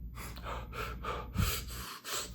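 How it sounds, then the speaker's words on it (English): A person demonstrates shallow breathing with quick, short breaths through the mouth, several rapid gasping in-and-out pulses close to the microphone, with no words spoken. "your breathing is very shallow"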